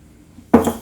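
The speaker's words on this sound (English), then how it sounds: "I can't believe I just dumped my sprinkles all over the floor" Sprinkles spill onto the floor in a single sudden clatter, a sharp scattering burst that follows a brief quiet moment in a kitchen.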